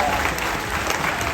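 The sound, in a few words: audience applause at a tiger show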